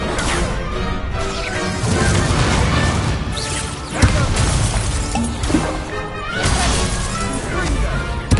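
The Incendio fire spell is cast in a Hogwarts video game, with repeated crashing, bursting magical impacts and whooshes over a busy, dense game soundscape.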